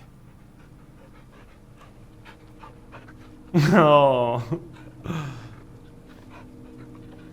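The dog in the horror video game Blair Witch pants softly and steadily in the background. A man laughs and makes a brief vocal outburst partway through.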